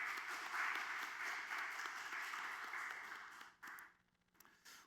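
A church congregation claps together after a Wednesday worship song, a faint, dense patter of applause that fades out toward the end.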